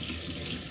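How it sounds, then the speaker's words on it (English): A cup being washed under a running kitchen tap: a close, steady rush of water splashing into the sink for a short moment, with no voices. "I'm not even done washing her cup yet."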